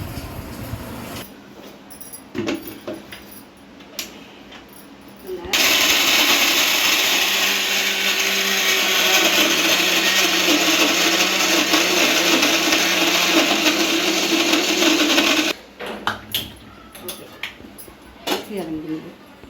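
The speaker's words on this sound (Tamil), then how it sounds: "இதை மிக்சியில் போட்டு அரைச்சி எடுத்துக்கோங்க" A mixer grinder grinding a navadhanya mix of nine grains roars loudly and steadily for about ten seconds, with talk and kitchen clatter before and after it.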